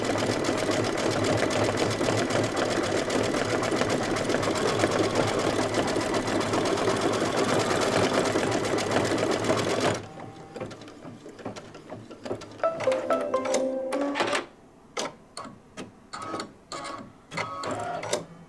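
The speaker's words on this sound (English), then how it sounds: "I'm not slowing my machine down or anything." Embroidery machine stitching a Halloween owl placemat block at full speed, a loud, steady, rapid mechanical chatter up close, then stopping and giving way to scattered clicks and short bursts of stitching.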